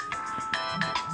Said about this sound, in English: I had that stupid ringer too